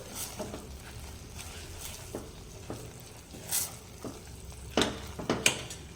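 A spoon stirs fada lapsi (cracked-wheat sweet) with cardamom powder inside a pressure cooker: light sizzling and scraping, with a few sharp metallic clinks against the pot near the end, close and fairly quiet.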